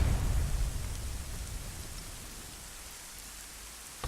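Rain falls in the video game Arma 3 as a steady, soft hiss of dense drops, heavier at first and then easing slightly, with no voices over it.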